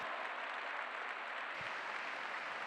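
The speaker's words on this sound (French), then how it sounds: "Non, n'arrêtez pas vos applaudissements." Spectators at an international show jumping competition applaud a rider after a clear round, a faint, steady wash of distant clapping spread across a large arena.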